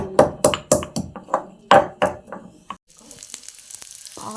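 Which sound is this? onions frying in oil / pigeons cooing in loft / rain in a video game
onions frying in oil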